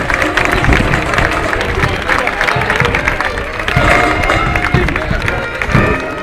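A festival crowd at a street performance with a brass band claps and cheers loudly and steadily, a dense wash of applause mixed with crowd hubbub for several seconds.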